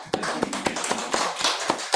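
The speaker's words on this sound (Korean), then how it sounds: "박수 좀 약하네." An audience applauds at a Sasang constitutional medicine lecture, giving sparse, fairly light hand claps in an uneven rhythm over about two seconds, with no voices.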